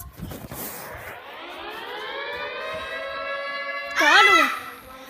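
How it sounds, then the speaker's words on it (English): Air raid siren test sounding a long rising, sustained wail that swells louder near the end, with a voice and other speech heard near the start and close by at the end. "It's an airway siren."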